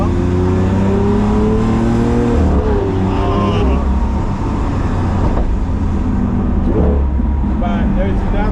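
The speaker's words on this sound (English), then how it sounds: "you probably hear a little bit of the exhaust here" Lamborghini Aventador exhaust droning steadily from inside the car as it climbs a winding road, a loud continuous engine tone that rises and falls in pitch with the throttle.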